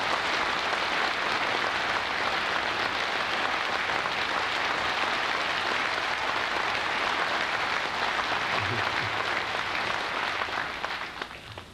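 An audience breaks into long, dense applause during a speech by former South Korean president Kim Dae-jung, steady and full for about ten seconds before fading at the end.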